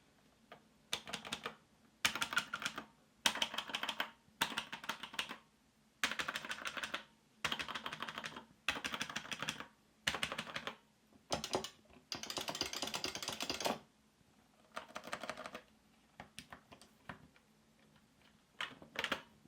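Buttons on a Mayflash F300 arcade stick click in rapid bursts, short flurries of presses separated by brief pauses, close and crisp with no talking.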